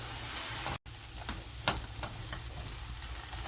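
Julienned potatoes stir-frying in a pan with chili, a soft steady sizzle with a few brief scraping stirs, close and fairly quiet, with no talking.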